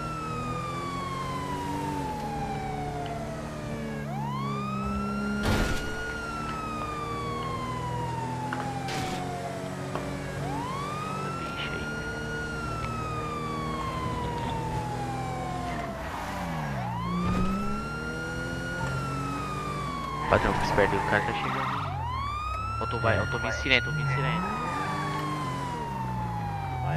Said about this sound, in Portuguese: Eu tô vindo em sirene.